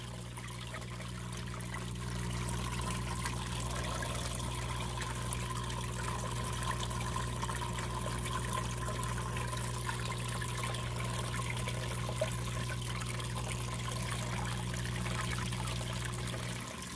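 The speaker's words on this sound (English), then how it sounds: "So, water's running pretty high." Water runs steadily through a Micro Turbo Bowl gold concentrator, a continuous close trickling flow with a constant pump-like hum underneath, building slightly after the first couple of seconds and holding level without talk.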